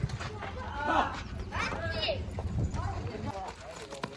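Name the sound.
horse hooves clip-clopping as it comes alongside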